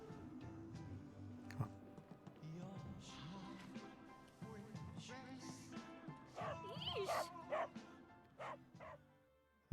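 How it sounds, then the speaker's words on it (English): A guard dog in the Final Fantasy VII Remake game barks and yips repeatedly at close range, with whimpers and scattered sharp yelps mixed among steady game background sound. "It's the guard dog."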